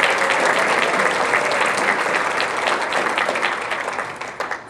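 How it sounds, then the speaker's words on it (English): Audience at an awards evening breaks into full applause that stays dense and loud, then gradually fades as individual claps become more distinct near the close. "So please give me a round of applause."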